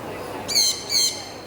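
Two short, high chirping bird calls ring out in quick succession over a low background hiss, moderately close.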